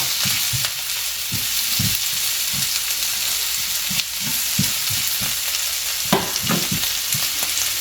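Ingredients being sautéed for a simple gisa sizzle steadily in a hot pan, with a spatula stirring in repeated scraping strokes, close and without talk.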